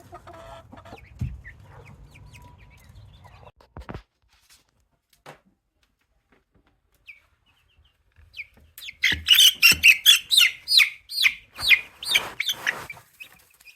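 Silkie chickens in an outdoor enclosure. After a quiet stretch with a few faint knocks, they break into a run of close, repeated clucks and squawks for the last few seconds.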